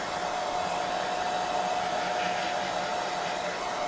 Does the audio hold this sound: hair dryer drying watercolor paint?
yes